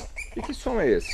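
A muriqui monkey gives a short whinnying call like a horse's neigh, a loud descending harmonic squeal right after a brief spoken question.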